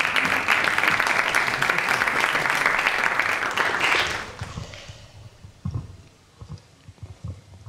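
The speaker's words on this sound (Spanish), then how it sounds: "Por favor, un aplauso para Manuel Viegas." An audience at a cinema talk in Lisbon gives dense, steady applause for about four seconds. The clapping then fades out and a few scattered thumps and rustles follow.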